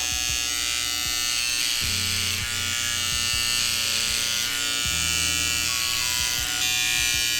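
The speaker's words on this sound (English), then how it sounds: "I'm going to use my clipper over comb technique here so I can be very specific with the hairs." Electric clippers buzz steadily in a barbershop, worked clipper-over-comb while trimming hair during a head shave and beard trim, with short pulses as the blade meets the comb; the steady motor hum stays close and dominant throughout.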